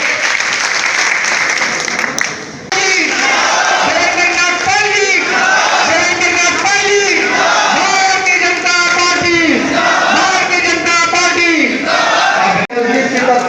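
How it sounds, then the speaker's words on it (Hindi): Dense applause and cheering from a large crowd at a political election rally, loud and sustained throughout, with a brief dip near the start and shouts mixed into the clapping. "जोरदार ताली हो जाए।"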